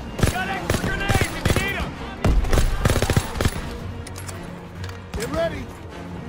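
Rapid machine-gun bursts and rifle fire in a Call of Duty WWII battle, loud and close, with shouted voices cutting in and out over the steady barrage.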